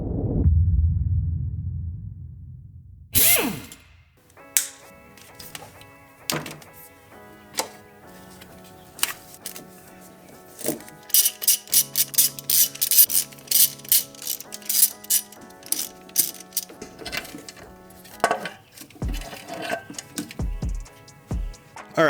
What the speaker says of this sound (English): I'm going to pop this valve cover off and start adjusting the valves